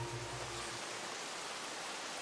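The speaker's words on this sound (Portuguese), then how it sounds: "Não parece que vai parar de chover tão cedo." Steady rain in a video game, a dense hiss of falling water that continues evenly throughout, with a low hum fading out early on.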